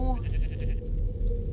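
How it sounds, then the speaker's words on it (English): A goat bleats in a video game on a mountainside, a wavering harmonic cry at the start followed by softer repeated bleats over a constant low rumble of game ambience. "I hear that stupid goat again."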